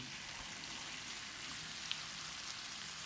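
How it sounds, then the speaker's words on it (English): Pieces of beef brown in melted butter in a pan, giving a steady, fairly quiet sizzle and hiss, like light rain, with one brief pop in the middle. "So I'm going to melt a piece of butter and half our beef goes in the pan"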